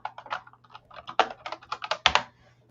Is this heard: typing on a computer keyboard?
yes